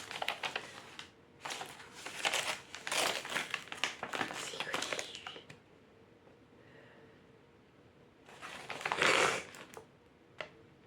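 Paper crumpling while a returned parcel is unpacked, with bursts of crinkling and rustling that come in clusters, a quieter gap in the middle, and a loud crunch near the end.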